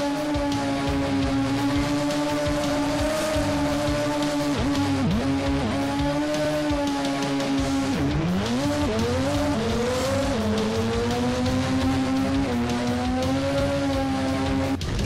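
A turbocharged four-cylinder import drag car in a drag racing video game, its engine droning loud and steady through the run while the revs climb, dip at shifts and climb again.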